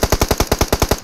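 Automatic gunfire from a Mini rifle in PUBG Mobile played on an emulator: about ten sharp, evenly spaced shots in quick succession, loud and close, with no talking.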